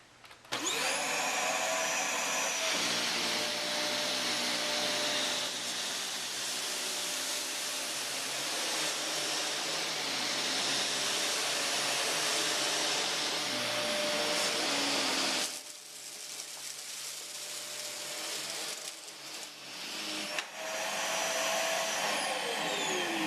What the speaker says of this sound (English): Now we're going to see how the vacuum performs on heavier debris.